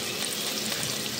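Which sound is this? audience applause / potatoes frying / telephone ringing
potatoes frying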